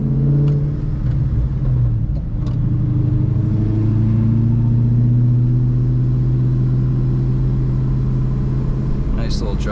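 A Dodge Charger Hellcat with a low-slung exhaust cruises down a road, its deep engine rumble droning loud and steady throughout, with a few faint clicks and knocks near the end.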